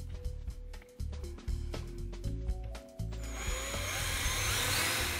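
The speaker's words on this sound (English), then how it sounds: "With our hole drilled through our cabinet" A power drill with a 5/8-inch bit whirs and grinds through a wooden cabinet in short, stuttering bursts, then runs into a continuous high, rough whine.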